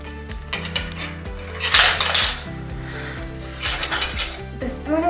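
A metal spoon and other eating utensils handled by a C5 quadriplegic, hooked onto an adaptive holder, give scattered clinks and scrapes with two louder clattering bursts, over steady background music.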